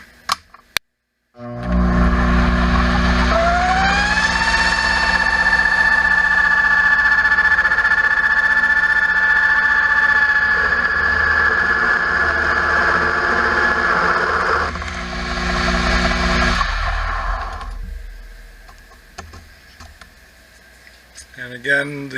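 An RF1-231 clone lathe spins up with a rising whine, then holds a loud, steady mechanical hum while cutting knurling for about fifteen seconds before winding down to quiet clatter.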